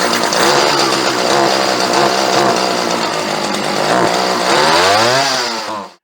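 A small engine, freshly fitted with a new primer bulb and just given a carburetor tune-up, runs loud and close with a buzzing drone, revving up near the end before cutting off abruptly.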